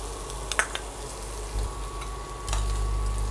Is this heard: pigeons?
no